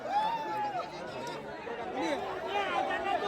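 Lively crowd chatter at a bullock cart race, a dense babble of many voices with occasional calls and shouts rising above it, steady and close throughout.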